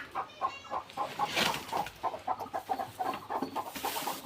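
Backyard chickens clucking repeatedly in a steady, soft stream of short calls, fairly close but quiet, with no talking.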